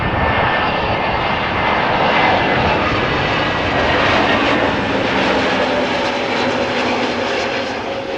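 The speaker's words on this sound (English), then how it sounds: "So here it is, ITA Airways flight 108, arriving from Rome." An ITA Airways Airbus Neo airliner arriving from Rome at Amsterdam Schiphol roars with a loud, steady broadband engine rush that holds throughout with a slight fade at the end.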